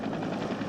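Helicopter flying near the Latvian border, heard as a steady, dense rotor and engine drone with no break across the short stretch.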